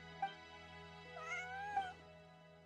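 A cat meows in Genshin Impact, two or three faint, drawn-out mewing calls rising and falling over a steady low background hum, with no talk.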